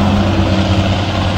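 An old Hino truck hauling a heavy load labors uphill, its engine a dense, steady low drone up close throughout a very short moment with no speech.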